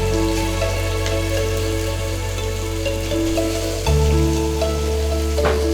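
Green chilli, ginger and onion sautéing in a pan for Kerala-style beef mappas, a steady close sizzle with occasional stirring clinks, heard alone with a low hum beneath.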